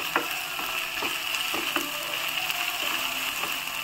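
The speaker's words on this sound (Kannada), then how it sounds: "ಒಂಚೂರು ಅದನ್ನು ಹಸಿ ವಾಸನೆ ಹೋಗೋ ಥರ ಹುರ್ಕೊಳ್ಳಿ" Masala frying in a pan for prawns sukka, a steady close sizzle with soft scraping stir strokes recurring roughly every half second, no talk.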